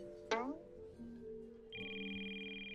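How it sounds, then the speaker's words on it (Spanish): A cartoon mobile phone rings with a bright electronic tone, faint and synthetic, after a quick descending zip and a low musical tone. "Es mi teléfono."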